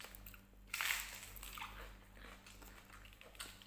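Quiet, close crunching bites of crisp, fridge-cold lettuce, a few brief chews with soft crackles, no talking.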